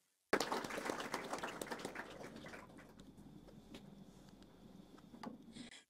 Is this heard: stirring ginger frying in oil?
no